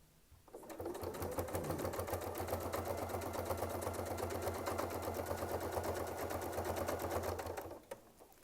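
A sewing machine stitches a quilt border with a Westalee sampler ruler, running steadily and loudly for about seven seconds in a fast, even needle rhythm, starting and stopping cleanly with no voices.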